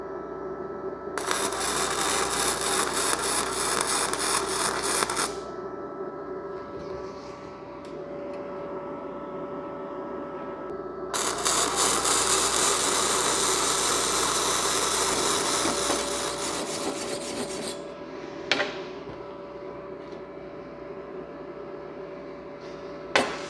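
A Simder MIG-250D welder lays down flux core welds in two long bursts of harsh, crackling sizzle, separated by a quieter stretch with faint background hum and a few short clicks near the end.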